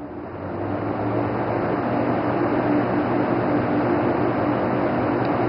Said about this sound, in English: so when you turn it on high, it sounds like this